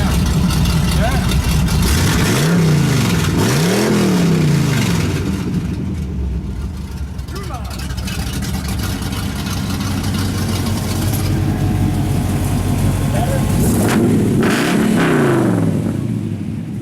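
A car engine fitted with an electric exhaust cutout revs in several rising and falling sweeps, loud and close, then settles toward idle. People talk over the engine.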